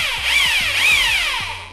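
An electric drill with a 5 m power cord, set to normal drilling mode, whines loudly and close, its pitch rising and falling twice as the motor speeds up and slows.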